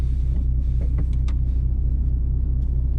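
MINI John Cooper Works GP3 engine idling then pulling away in drive, a steady low rumble with faint higher whines and ticks, close and continuous, no voices.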